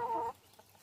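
Laying hens on a farm give a brief, close cluck lasting about a third of a second, then only faint background sound follows.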